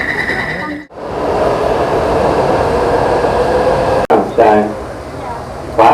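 Inside a moving commuter train, with a steady loud rumble and hum of the carriage running throughout and a brief dropout partway. Voices briefly break in near the start and end.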